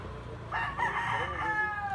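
A young gamecock stag with a red coat crows once in a long, loud, drawn-out call, close by over quiet farmyard background.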